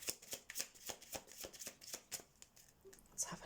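Oracle cards being shuffled by hand for a tarot-style reading, a quiet rapid run of crisp card flicks and riffles up close.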